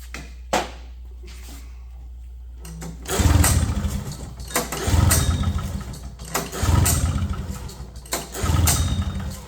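A 1970 Polaris Mustang snowmobile that had sat unstarted for ten years cranks, then catches and roars in a series of loud, close throttle bursts that rise and fall roughly every couple of seconds.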